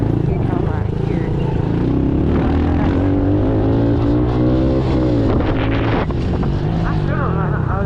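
Pit bike engine droning steadily while riding on a small turn track, loud and continuous with wind buffeting the microphone and a voice talking over it.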